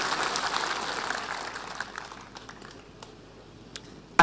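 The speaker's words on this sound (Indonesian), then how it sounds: "Berikan tepuk tangan yang meriah buat Tuhan." Church congregation applause during a sermon, loud clapping at the start that thins and fades into scattered claps toward the end.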